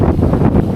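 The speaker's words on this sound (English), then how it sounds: "Headwind." Strong headwind roars across the microphone during a bicycle ride through a blizzard: a steady, dense low rumble that is loud and close and lasts the whole moment without a break.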